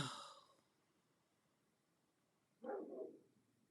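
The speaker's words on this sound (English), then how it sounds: "please excuse my dog if you hear her because she's literally right outside" Dog just outside a home studio door gives a short muffled bark at the start, then a second fainter bark after a long quiet pause.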